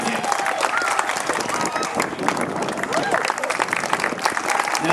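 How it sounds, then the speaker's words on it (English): Steady, close applause and crowd noise fill the whole stretch as an audience claps during an outdoor Canada Day taekwondo demonstration at Bronte Waterfront, with a buzz of voices mixed in. "The louder you clap, the higher we jump."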